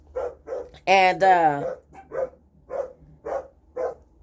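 Dog barking at puppies indoors, a steady series of sharp barks with a longer whining yelp early on, close and clear.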